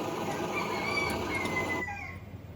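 An Optimus 8R camp stove burner gives a loud, steady roar close by, then cuts off abruptly after about two seconds.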